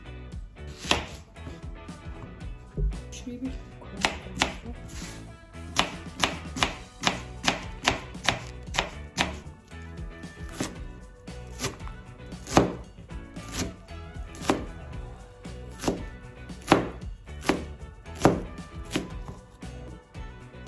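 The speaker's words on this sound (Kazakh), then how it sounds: "Енді пиязымды тура қорып әкелемін." A knife chops onion on a board in quick runs of sharp, close strikes broken by short pauses, with no one talking.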